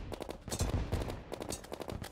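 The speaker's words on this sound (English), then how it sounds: "Oh, it's shooting cannonballs at us now." Cannon fire from a pirate ship in Terraria, a rapid run of booming shots and pops that bursts in repeated clusters across a dense, busy game soundscape.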